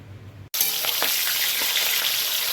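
Spices and chilies hit hot oil in a pan, bursting into a loud, steady sizzle after a brief quiet moment, close and without talk.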